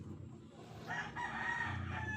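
A fighting rooster crows loudly and close by, one long drawn-out call that rises after a quieter start, with some clucking and farmyard noise around it.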